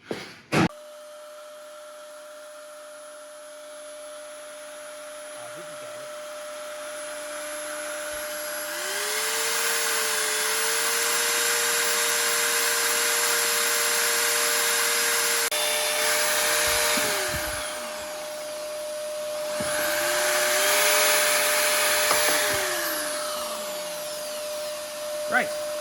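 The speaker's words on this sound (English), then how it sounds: "Connor here is going to hold the vacuum cleaner against it, so any metal filings should get sucked in" A vacuum cleaner is held against a drilling spot on a Mk2 Golf TDI to suck up metal filings, its steady whine starting partway in and running continuously. Two louder surges from the drill stop and start over it, and speech is present.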